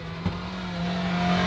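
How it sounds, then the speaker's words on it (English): A car engine drones and rises in pitch as it passes nearby, loud and steady, with no talking. "That's actually a loud car,"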